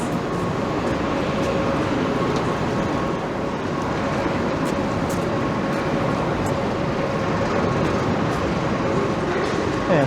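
A Toronto subway train runs with a steady, loud rumble and rattling wheels, and a faint high whine carries on throughout.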